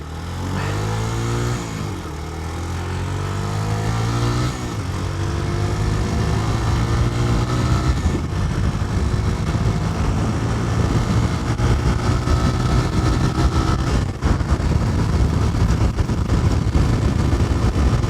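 A motorcycle engine drones loud and close at full throttle in top gear, pitch sliding at the start before settling into a sustained, harmonic-rich roar with wind buffeting.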